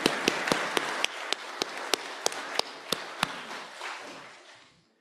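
A church congregation claps in a sanctuary after a children's story, a brisk run of sharp, evenly spaced claps that thins out and fades away toward the end.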